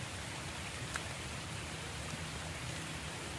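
Steady rain falls at night on a campsite on a remote island, a soft, even hiss that fills the whole stretch with no voices over it.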